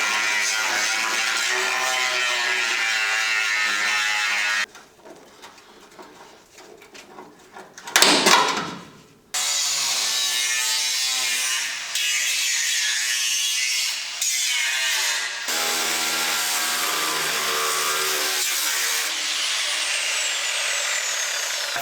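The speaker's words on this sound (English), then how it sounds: "I'm using the angle grinder to just remove the material where the spot weld is" An angle grinder cuts away spot welds on a rusty 1957 Porsche 356 body panel, a loud, steady high-pitched whine that stops once briefly and then resumes, pitch shifting as the disc bites into the metal.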